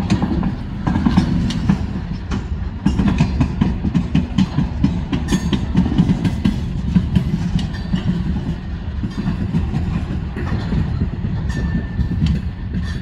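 A Norfolk Southern freight train rolls past the Porter diamond crossing, a loud, steady rumble with continuous clickety-clack of wheels on the rail joints close by.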